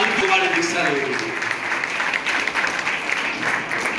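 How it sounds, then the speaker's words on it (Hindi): An audience claps steadily at a religious gathering, with dense, even applause running throughout, moderately loud and close. "यदि ताली बजाना आता हो ना तो जोर से बजाना"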